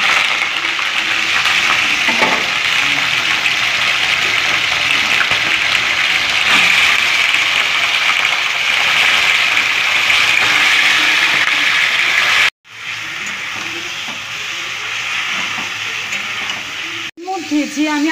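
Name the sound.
chicken frying in oil with cumin in a wok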